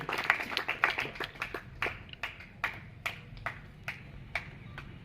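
Scattered claps from an audience at a physical training academy event honouring children, sparse and uneven individual hand claps at moderate distance, fairly quiet.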